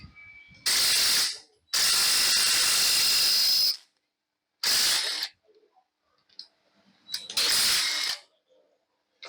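A ratchet wrench clicks rapidly in several loud bursts, with short pauses between them, while removing the engine head bolts on a TVS Apache RTR motorcycle.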